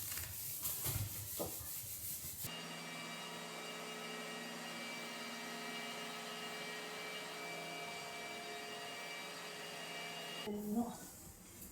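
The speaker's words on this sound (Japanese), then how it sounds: "久しぶりの寝室のまっさらな床を磨いてきれいにしていきます。" A bare bedroom floor is polished and wiped with a steady, continuous whirring rub that holds for about eight seconds, with brief scuffing and handling noises before and after it.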